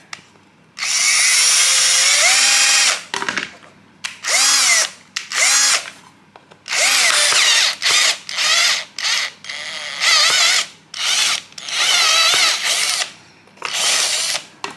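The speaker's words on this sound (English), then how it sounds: "let's make a hole. I will using a step drill." A power drill with a step drill bit whines in repeated bursts, starting and stopping as it bores a 10 mm hole, with brief pauses between pulses and pitch shifting under load.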